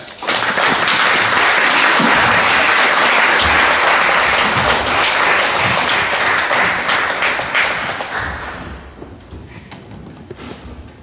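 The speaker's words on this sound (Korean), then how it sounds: "여러분 큰 박수로 환영해 주시기 바랍니다" Congregation at a Korean church Sunday service bursts into loud, dense applause to welcome a visiting pastor, sustained for several seconds before tapering off into quieter room sound.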